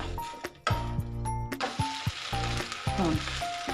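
A cucumber dosa fries in oil on a hot pan, crackling and sizzling throughout, with a few close clinks and scrapes from a spatula and a faint voice in the background.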